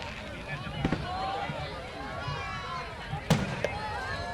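Fireworks burst at the illuminated boat festival on the Mekong River in Nakhon Phanom, with a few sharp, fairly distant pops over a continuous crowd murmur and nearby voices.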